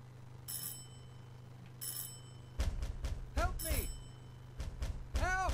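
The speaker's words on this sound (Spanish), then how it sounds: "Sí, es el timbre." A doorbell in the video game Silent Hill 4 rings in several sharp electronic bursts, short and bright, the later rings warbling over a low steady hum.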